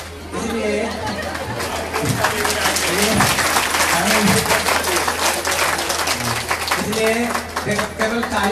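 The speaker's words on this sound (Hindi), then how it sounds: "अब इनके लिए भी आप ताली बजाएं" An audience at a Bhagwat Katha religious discourse in Greater Noida claps steadily for several seconds, a dense, sustained wash of applause with crowd chatter and a voice heard through it.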